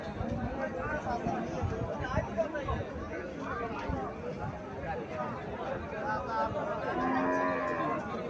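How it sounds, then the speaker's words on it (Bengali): At a village cattle market in Cumilla, a Friesian dairy cow moos several times amid a busy crowd, with lots of nearby talking and chatter layered over the lowing. "এখানে আরো একটা ফ্রিজিয়ান জাতের গাভী দেখা যাচ্ছে"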